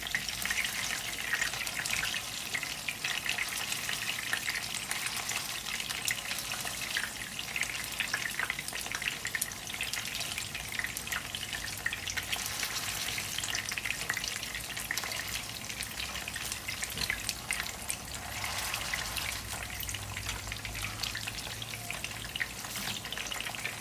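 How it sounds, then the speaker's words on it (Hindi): Beef chapli kabab fries in a pan, pressed down as it cooks, giving a steady, close hiss and sizzle that runs unbroken throughout with no voices. "तो थोड़ा सा प्रेस करते जाएं साथ साथ फ्राई के, ताकि ये अंदर से भी पक जाए।"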